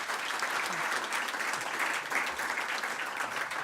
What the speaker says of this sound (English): A round of applause for all our finalists.